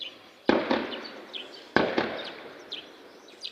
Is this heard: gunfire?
yes